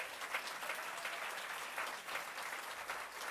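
Audience applause at a New York state clean-energy celebration, a steady wash of many hands clapping, moderately loud and even throughout with no voices over it.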